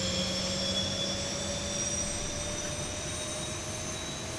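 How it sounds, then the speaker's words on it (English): Simulated jet engine of a Boeing 737-800 in X-Plane 11 spooling up, a steady, fairly quiet whine with a constant low rumble underneath, heard alone without voices. "Yeah, I hear that engine come alive."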